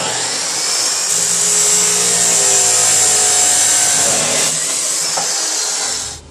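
A power tool cuts metal for a go-kart transmission mount, making a loud, continuous high-pitched whine and grind close by that holds for about six seconds before cutting off abruptly.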